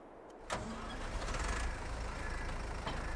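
A tractor engine in Farming Simulator 22 starts up with a sudden thump and settles into a steady, loud diesel rumble, with a few faint clicks over the drone.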